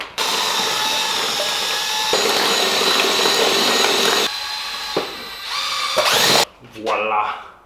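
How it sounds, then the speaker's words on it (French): A power drill fitted with a mixing paddle whirs loudly and steadily up close while churning plaster powder for skimming a ceiling, pausing briefly and changing pitch before stopping. "On se munit de sa perceuse avec son embout spécial et on va commencer par ajouter progressivement"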